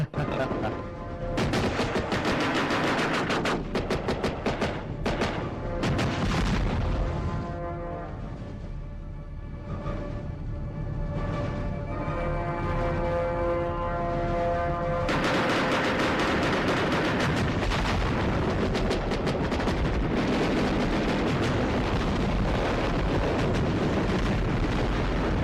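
Rapid gunfire crackles and booms with explosions in a Hindi-dubbed Hollywood war film, dense bursts at the start easing into a quieter musical stretch before a loud renewed barrage of shots and blasts.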